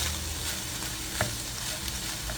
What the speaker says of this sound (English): And I'm just going to saute this